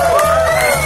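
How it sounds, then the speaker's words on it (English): Crowd cheering and whooping at a live blues festival, loud and close, with sustained shouted voices and a ringing held tone over a dense, continuous background. "how about a big round of applause for Wayne Durango?"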